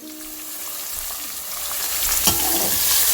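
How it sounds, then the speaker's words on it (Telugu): Onions and peanuts fry in a pan for coconut rice, a steady close sizzle that builds slightly louder toward the end, with a brief scrape of stirring near the finish. "ఆనియన్స్ కూడా మంచి ఫ్రై అయింది. కొంచెం బ్రౌన్ అయ్యే వరకు ఫ్రై చేద్దాం"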